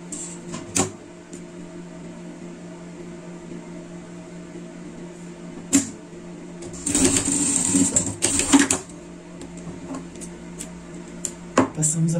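A sewing machine stitches shiny metallic fabric in one short, steady burst of whirring, close by, while someone talks before and after it.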